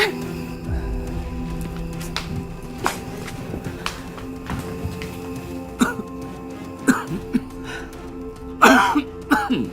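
A man coughs and clears his throat indoors at home during a family drama scene: scattered short, harsh bursts, growing more frequent and stronger toward the end over a faint low background.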